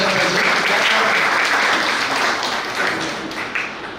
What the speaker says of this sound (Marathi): एकदा सरांसाठी जोरदार टाळ्या झाल्या पाहिजे.